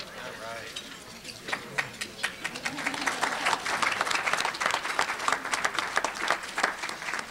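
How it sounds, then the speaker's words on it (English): Audience at a City Club of Portland mayoral election forum applauds, the clapping starting in scattered bursts and swelling into a full, sustained ovation that carries on to the end. "She certainly deserves the applause."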